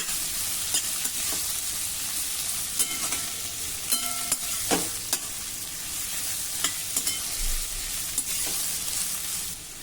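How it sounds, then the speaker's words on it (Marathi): Onions sautéing in a pan over medium heat, a steady bright sizzle with occasional scrapes and clinks of a spoon stirring, close and continuous with no talk. "मध्यम आचेवर आता हे कांदे आपण जरा मऊ होईपर्यंत परतून घेऊ।"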